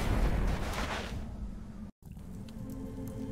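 A loud, low rumbling blast from the Coldside video game fills the opening second and a half, then fades into a steady low drone after a brief dropout.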